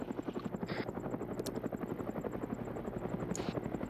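Military helicopter in a combat video game, a near, loud, rapid rhythmic rotor thump running steadily throughout, with brief high electronic chirps on top and no talk.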